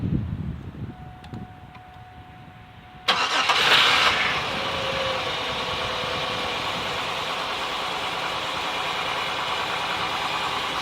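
A GM 3.4L engine with low fuel pressure cranks briefly, catches quickly, and settles into a steady, even idle that holds for several seconds close to the microphone.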